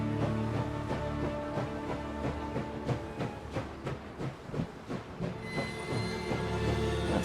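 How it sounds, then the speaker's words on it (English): The train in Last Train Home rolls along and slows to a stop at a waypoint, with a loud rhythmic clatter of wheels on rails under a steady hum that settles toward the end. "Train is stopping at a waypoint."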